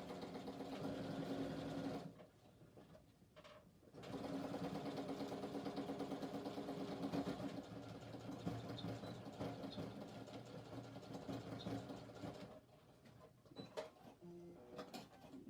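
Sewing machine running back stitches on a shoulder bag, a steady close mechanical whir with a brief pause near the start and quieter stops and handling toward the end.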